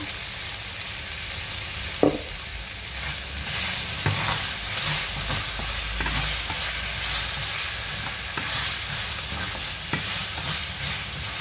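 Garlic ginger paste fries for chicken curry, a steady close sizzle with regular spatula stirs and a few sharp knocks against the pan, no voices.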